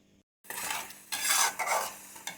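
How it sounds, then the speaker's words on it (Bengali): Spoon stirring spices, oil and vinegar together for a vegetable pickle, brisk scraping and clinking against a pot in uneven bursts, close and fairly loud after a short silence. "এবার আমি খুব ভালো করে মশলাটা নাড়িয়ে চাড়িয়ে নেবো"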